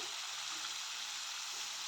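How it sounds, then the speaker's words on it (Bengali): Prawns frying in hot oil in a wok give a steady, continuous sizzle up close, with no voices. "একে একে সব চিংড়ি মাছগুলো আমি তেলের উপরে দিয়ে দিলাম"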